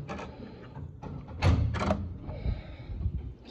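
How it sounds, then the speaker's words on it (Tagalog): A hotel room door at the Shangri-La is opened, giving a couple of dull thunks and a latch click at close range amid faint room noise. "Buksan mo yung pinto."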